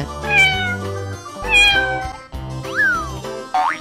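A cat meows four times in quick succession, each call clear and close, the last with a rising pitch, over a steady tonal backing.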